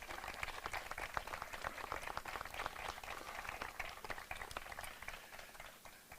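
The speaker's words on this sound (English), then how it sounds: "a little applause for all of those who have brought us to this place" An audience applauding at a public event for the National Truth and Reconciliation Centre in Manitoba, a steady patter of many hands clapping at moderate distance, easing off slightly toward the end.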